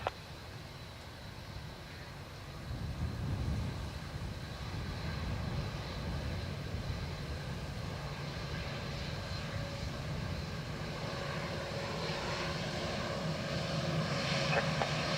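A fixed-wing airliner comes in to land on runway 28 left at Dublin Airport, a continuous broad engine roar heard from a distance that swells slightly after a few seconds and holds steady.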